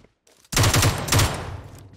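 Mutant rifle fire in the PUBG Mobile video game: a quiet lead-in, then a loud burst of rapid automatic shots starting about halfway through, with a few heavy low thumps as the volley continues and fades.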